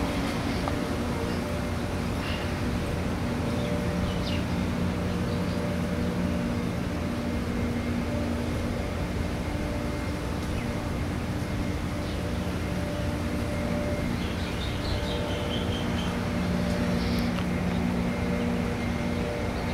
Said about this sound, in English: Gas engine.